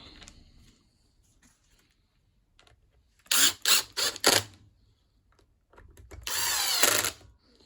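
A cordless drill or driver runs in a few short bursts, then one longer whirring run, while a screw is driven into the plastic housing of a Bosch AHS 40-24 hedge trimmer under repair. The bursts are close and loud, with quiet gaps between them.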